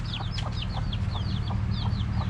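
Chickens clucking at a backyard coop, several birds making short rising clucks and chirps in quick succession, close and clear over a steady low rumble of background noise.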